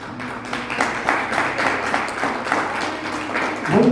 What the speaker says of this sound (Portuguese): Vamos dar uma salva de palmas, Jesus?